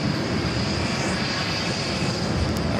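A Virgin airliner taxis across a runway at JFK airport in New York, its engine giving a steady broadband roar with a faint high whine, continuous and fairly distant.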